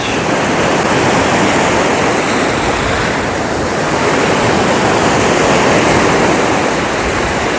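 Ocean surf rolling onto a beach, a steady loud wash of breaking waves with wind rushing across the microphone and no voices.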